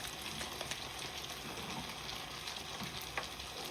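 Chicken fried rice sautéing in a pan with soy sauce and chilli sauce, a steady close sizzle broken by scraping stirring strokes and occasional clinks, continuous with no voices.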